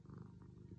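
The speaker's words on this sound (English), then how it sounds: "You guys could probably hear her purr." A cat purring close and soft, a steady low rumbling loop with gentle rhythmic pulses and no talking.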